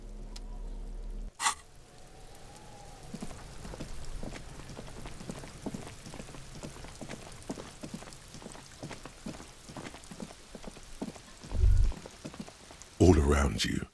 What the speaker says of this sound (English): Rain drips from the eaves and floods the gutters, washing the filth away.